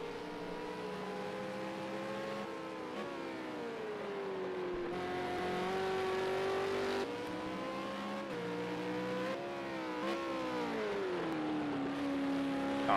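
V8 Supercar race car engines at Circuit of the Americas, a steady high-revving drone that shifts pitch up and down through gear changes, heard at a moderate distance.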